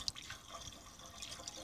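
Water poured into the radiator of an old excavator, a faint, steady watery trickle with a few soft drips, heard alone at low level.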